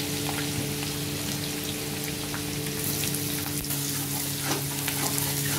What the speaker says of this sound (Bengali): কেটে রাখা পেঁয়াজগুলো দিয়ে দিলাম,